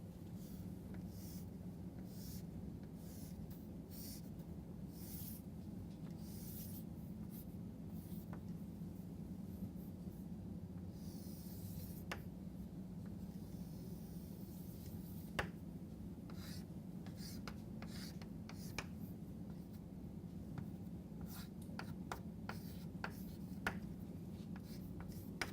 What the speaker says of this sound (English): let us draw this figure.